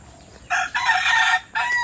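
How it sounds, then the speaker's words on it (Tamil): A rooster crows loudly and close by at a zoo, two bright calls broken by a short pause, standing out against a quiet background. "கோழி"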